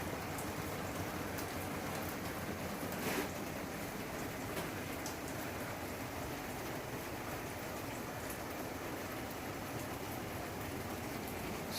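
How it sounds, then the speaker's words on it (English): Water dripping and trickling through fodder room growing trays during a pressure test, a dense constant patter like indoor rain, steady and even throughout. "We got drips into every tray."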